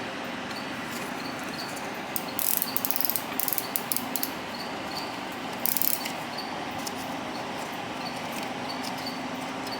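Faint metallic ticking and scraping as a screw is loosened on a 1908 antique Singer 27 treadle sewing machine, with a few short clusters of clicks against a quiet background.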